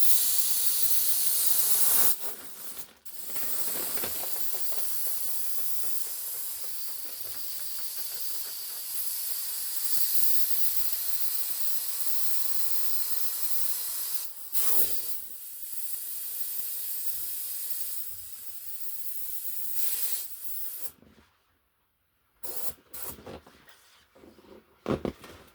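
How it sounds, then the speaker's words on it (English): Gas hisses steadily through a valve while a balloon inflates, a loud close continuous hiss with a few brief breaks and a stop near the end, with no talk. "You've got to inflate it until all the creases are out."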